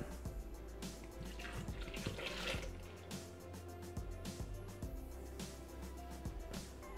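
Milk pours into a Thermomix bowl for ricotta gelato, giving soft liquid splashes and drips at low volume in a quiet kitchen.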